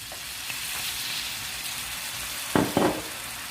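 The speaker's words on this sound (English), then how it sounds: "So while these shrimps are cooking, we're gonna take a little bit of white wine." Shrimp cook in a pan as a steady, moderate sizzle, then white wine poured into the hot pan sets off a couple of sudden louder bursts of hissing near the end.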